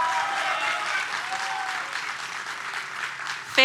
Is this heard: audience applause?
yes